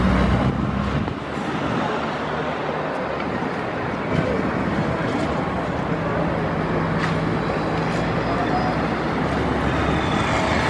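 A Caio Millennium 3 electric trolleybus moving through central São Paulo city traffic, its quiet running buried in a dense, continuous roar of surrounding road noise.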